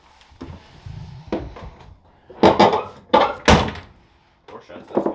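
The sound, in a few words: Ford Mustang car door shutting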